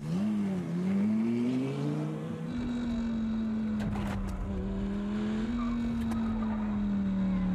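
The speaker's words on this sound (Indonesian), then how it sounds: "menemukan mobil polisi dan menggunakan mobil itu untuk melanjutkan" A police car drives steadily, its engine holding a sustained drone that rises slightly and then settles, with faint whirring and tire noise throughout and no talk.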